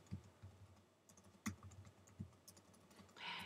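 Typing on a computer keyboard: a quiet, uneven series of close key taps and clicks with a few sharper strikes, no talking.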